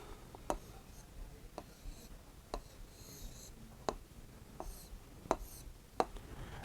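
The Urdu word aangan written by hand, a faint scratch of pen on paper broken by a few sharp taps and short strokes spread over several seconds, quiet and close, with no talking.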